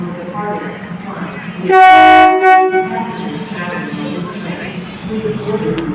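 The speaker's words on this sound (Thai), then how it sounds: "ขบวนรถเที่ยวนี้ออกจากสถานีอุดรธานีไปแล้ว" Passenger train no. 75 from Bangkok to Nong Khai pulls out of Udon Thani station with a loud, close horn blast of about half a second over a low rumbling of wheels and engine. Someone talks throughout.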